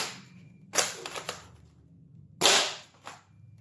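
A pellet gun fires into thick brown cardboard: two sharp, loud snapping shots about two seconds apart, each followed by a few smaller ticks and rattles, close by against a quiet background.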